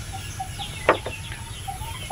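Backyard farm chickens give a brief cluck or two near the middle, with faint bird chirps scattered around under a low steady hum, and no talking.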